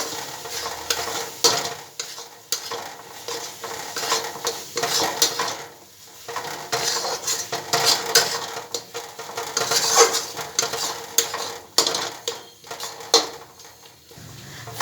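Spiced potato tikki chaat mixture with garam masala and black salt being stirred and scraped in a metal kadhai, steady clinking and scraping strokes with a faint sizzle, close and alone.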